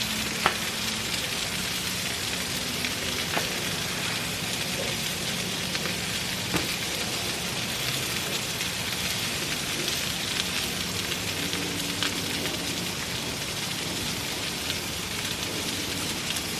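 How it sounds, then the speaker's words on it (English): Burger buns toast in oil on a hot cooking surface with an even, continuous sizzle and crackle throughout, close by and unbroken, with a few faint clicks and no talking. "we're going to throw some oil down because we're going to toast our buns while the burgers finish"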